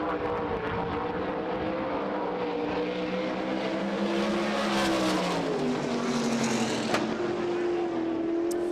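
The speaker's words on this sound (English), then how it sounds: "Up next on the racetrack, driving car number" A USAC Silver Crown race car roars through a qualifying lap on the Springfield Mile dirt oval, its engine note loud and continuous with a pitch that rises and falls as it passes through the turns.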